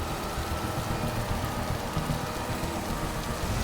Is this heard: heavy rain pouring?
yes